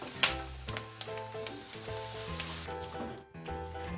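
Nuts or dry fruit roast in butter or desi ghee for mutanjan sweet rice, a close, crackling sizzle with a few sharp pops and spatters over a short stretch.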